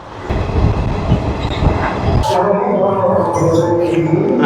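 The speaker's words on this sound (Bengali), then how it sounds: "আমরা ট্রেনে উঠে গিয়েছি এই হলো আমাদের চেয়ার" Passenger train rolling along with steady rumble and wheel noise, heard from inside a chair car; a sharp squeal or clatter cuts in midway, and people talk over it.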